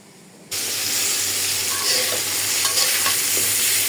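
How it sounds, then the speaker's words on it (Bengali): Teasel gourd frying in a home kitchen pan, a loud steady sizzle that starts abruptly after a brief quiet moment, with scraping stirs and spatula clinks over it and no talk. "কাঁকরোল ভাজা হয়ে যেতেছে।"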